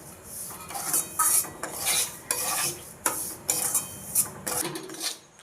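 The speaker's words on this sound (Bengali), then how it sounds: "ঘিটা গরম হলে সুজিটা দেওয়া হবে, তারপরে কিছুক্ষণ নাড়াচাড়া করে ভাজা হয়ে যাওয়ার পরে" Semolina being stirred as it fries in ghee in a pan, a spoon scraping and clinking against the metal in repeated bursts of about one per second over a soft background sizzle, close and clear with no talking.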